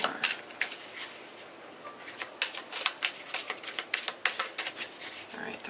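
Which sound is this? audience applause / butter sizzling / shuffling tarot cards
shuffling tarot cards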